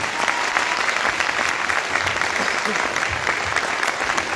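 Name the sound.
audience applause for Sanjeev sir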